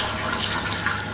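Pink RV antifreeze running from a faucet during winterizing, a loud, steady close rush of liquid pouring without pause.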